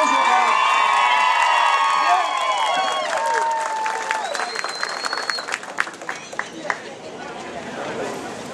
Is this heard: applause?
yes